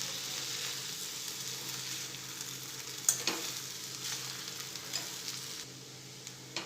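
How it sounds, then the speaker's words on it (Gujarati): Basmati rice pulao is stirred in a hot pan, giving a steady close frying sizzle with a sharp utensil scrape near the middle and a few lighter scrapes after it. Nobody speaks. "હવે સરસ મિક્સ કરી લઈશું."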